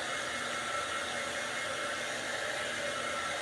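A handheld craft embossing heat tool blows hot air to dry craft work, producing a steady, continuous whooshing hum that stays even throughout with no talking.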